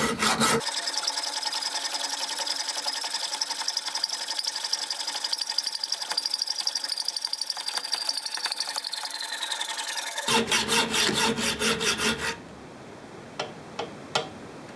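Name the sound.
hacksaw sawing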